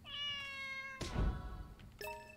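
A cat in the video game The Good Life gives two clear, drawn-out meows close up, separated by a soft thump, with no speech.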